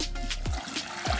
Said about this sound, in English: Add 2 cups of water to it,